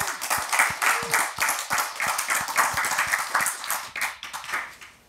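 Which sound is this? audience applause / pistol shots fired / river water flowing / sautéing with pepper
audience applause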